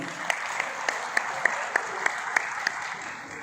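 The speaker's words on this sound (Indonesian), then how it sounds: "Boleh sekali lagi tepuk tangan ya." An audience at a holistic health talk claps together in a steady, even rhythm of about three beats per second, a loud crowd sound with faint voices underneath.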